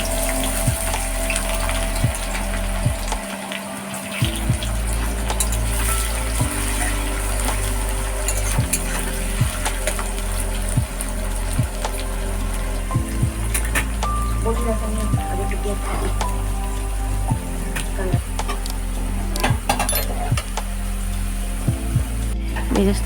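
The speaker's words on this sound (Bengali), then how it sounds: "এখন পেঁয়াজ ভেজে বেরেস্তা করে নেব" Onions sizzle and fry steadily in a pan, being browned into crisp beresta for chicken biryani, with a continuous crackling hiss, near and fairly loud, and faint voices now and then.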